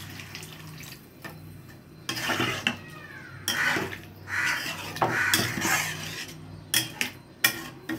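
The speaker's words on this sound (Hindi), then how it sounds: "अब इसमें हम पानी डालेंगे।" Water splashes and pours into a pot of fried chickpea curry (chole) in several bursts, with stirring and clinking of a metal utensil against the pan.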